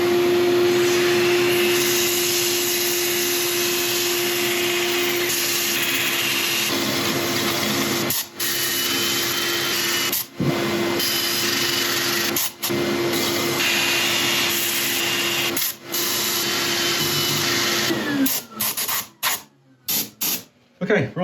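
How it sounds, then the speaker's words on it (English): A lathe spins a mallee hedgehog burl during sanding, giving a steady motor hum with a constant tone, broken by brief dropouts and ending in a few sharp stops near the close. "I'm going to set up for sanding again."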